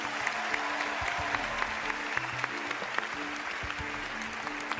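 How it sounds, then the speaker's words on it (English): A television talent show audience claps steadily after a magician's act, a dense wash of applause from a crowd that continues without pause. "How about a big round of applause for both of them?"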